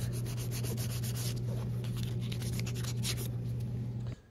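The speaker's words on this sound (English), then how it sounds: "on the belt sander, I actually used 120 grit to finish the heels" A belt sander with a 120-grit belt grinds the heels of Allen Edmonds oxford shoes, a steady close abrasive rasp with a low motor hum that runs continuously for about four seconds and then cuts off.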